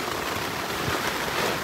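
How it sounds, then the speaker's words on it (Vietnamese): Heavy rain falls in a forest, a steady dense hiss of drops pattering on surfaces, loud and continuous with no voices. "Mưa quá lớn rồi."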